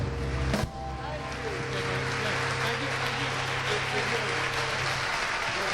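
An audience at a live doo wop show breaks into sustained applause and cheering after a sharp thump, a dense, even wash of clapping that holds steady throughout, with a voice speaking over it.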